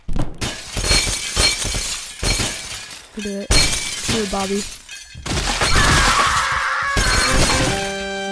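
Glass shattering in the video game Happy Wheels 3, with several bright crashing bursts near and loud, surrounded by game effects and someone talking throughout.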